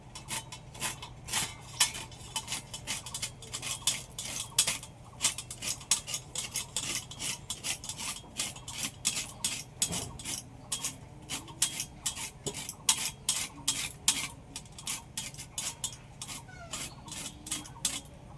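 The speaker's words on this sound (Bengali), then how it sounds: "এবারে আমগুলো আমি সব গ্রেট করে নেবো" Raw green mangoes grated for homemade amchur, rapid rhythmic rasping strokes against a metal grater, close and continuous, with occasional clinks of the grater on a plate.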